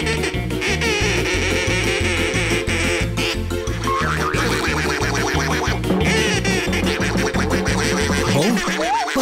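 Cartoon duck quacking repeatedly and frantically over a rhythmic, bouncy music track in an animated children's show, loud and continuous, ending with a rising squawk.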